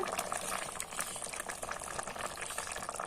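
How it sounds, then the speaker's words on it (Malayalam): Kerala-style cashew and coconut curry bubbling steadily in a pot, a dense continuous crackle and gurgle of boiling liquid heard close up with no one talking. "ഒക്കെ തിളച്ച് നല്ലപോലെ വെന്തിട്ടുണ്ട്"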